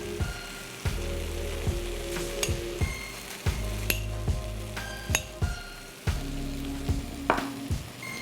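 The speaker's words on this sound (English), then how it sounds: "I'm also going to go ahead and add my spices into it now" Red chili, turmeric and pepper powders sizzle in a hot pan of frying tomatoes for tandoori chicken, a steady crackling hiss broken by repeated stirring clinks of a utensil against the pan.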